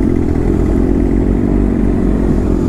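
A superbike being ridden, its engine producing a loud, steady low rumble with a close, continuous drone and no talk over it.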